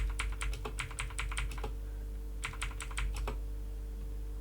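A password is typed on a computer keyboard in two quick bursts of crisp, close key clicks with a short pause between them, over a low steady hum and with no talking.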